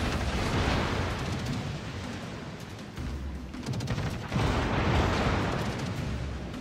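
Warship cannon fire and explosions from World of Warships boom and rumble in a dense, continuous wash, with heavier blasts around the middle and near the end.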